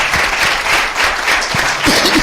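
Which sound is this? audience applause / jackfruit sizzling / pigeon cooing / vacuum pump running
audience applause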